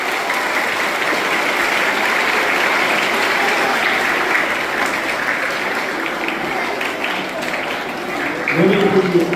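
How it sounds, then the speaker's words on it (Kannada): Schoolchildren at a government school in Haliyal clapping loudly together, a dense sustained roar of many hands that continues evenly throughout, with a hint of voices rising near the end. "ಎಲ್ಲರೂ ಮಕ್ಕಳು ಜೋರಾಗಿ ಚಪ್ಪಾಳೆಯನ್ನು"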